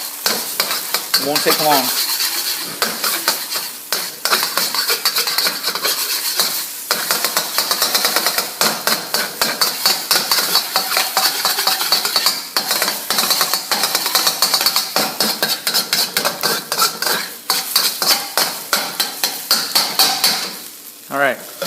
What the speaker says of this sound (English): Get our eggs cooked up quickly. Scramble these up.